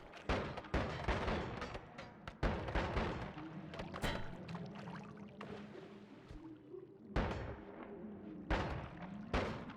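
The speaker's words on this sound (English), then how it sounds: "You're curious why I'm shooting every once in a while?" Spells fire in Noita as a string of loud, punchy thumps and blasts, some isolated and some clustered, with splashy, rumbling debris between shots.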